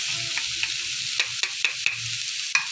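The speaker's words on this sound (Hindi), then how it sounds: "इसको अच्छे तरीके से मिक्स करके ताकि इसमें जो मैंने इंग्रेडिएंट्स डाले हैं वो अच्छे से मिक्स हो जाएं" A spatula scrapes and taps against a pan as spring roll filling is stirred over a gentle sizzle. The strokes land in an irregular rhythm with several sharp clacks, close up, with no talking.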